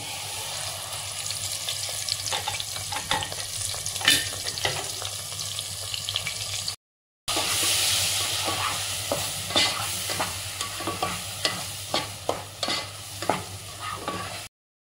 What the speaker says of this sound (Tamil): இப்போ இதை வந்து எண்ணெயில் கொட்டிக்கலாம்.